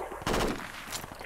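Gunfire from the video game Insurgency: a loud burst of rapid automatic shots begins abruptly and continues as a dense rattle, with a second brief burst near the end.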